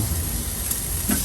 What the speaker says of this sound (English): Sausages are going in.